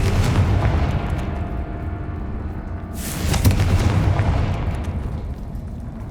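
Spell explosions from the Confringo and Bombarda curses go off in Hogwarts Legacy as a pair of heavy rumbling booms, the second stronger with a sharp burst of debris, loud and close with no talk.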